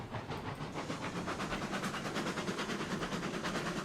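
A Shay steam locomotive running in the RailRoads Online video game, with slow rhythmic chuffs of steam and a hissing wash over a low mechanical rumble, steady and fairly close.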